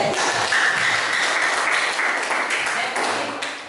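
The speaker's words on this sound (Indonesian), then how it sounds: "Kasih aplaus dulu." A classroom full of students applauding together, dense steady clapping that stays loud and close throughout before tapering slightly at the end.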